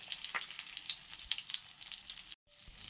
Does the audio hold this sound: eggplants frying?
yes